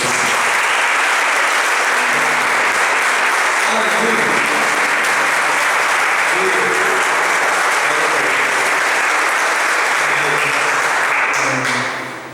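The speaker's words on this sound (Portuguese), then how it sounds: "Aplauda ao Senhor." A church congregation applauds the Lord at the close of a Portuguese-language worship service, dense sustained clapping filling the room for about twelve seconds, with a voice calling out briefly over it before it tapers at the end.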